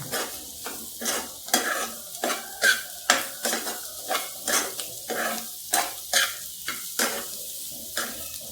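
Mutton lungs frying in a pan over a high flame, with a steady sizzle broken by repeated rhythmic scraping strokes of a spoon stirring against the metal, close and fairly loud.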